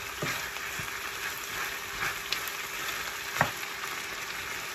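Snow peas are stirred into a chicken and walnut stir-fry. A soft, steady sizzle runs under a few scattered scrapes and taps of a utensil, and the whole sound is fairly quiet.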